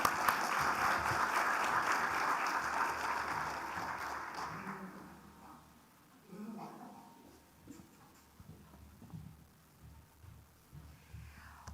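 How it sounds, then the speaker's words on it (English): Audience applause welcoming a congresswoman to the stage at the Taiwan-U.S. Investment Conference: a full, dense round of clapping that fades out after about four seconds, leaving quieter room noise and scattered murmuring. "Please give a big round of applause to welcome her to the stage to give us her remarks."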